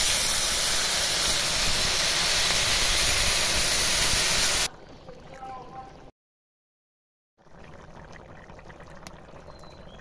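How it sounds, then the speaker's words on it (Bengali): Jackfruit curry gravy heats in a pot, a loud, dense hiss of steam and bubbling for several seconds that suddenly drops to a quieter simmer, cuts to silence, then returns faintly. "ঝোলটা ফুটছে"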